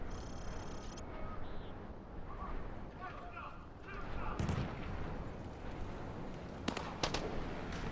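Gunfire crackles across a firing range in Call of Duty: Modern Warfare 2 Remastered, with dense battle ambience throughout and a few sharp shots standing out near the end, while a voice talks over it.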